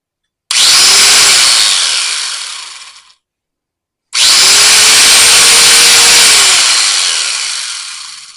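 A worn Harbor Freight angle grinder with a brushed motor whines loudly up to speed in two separate bursts, each spinning down gradually after switch-off, with a short silence between them.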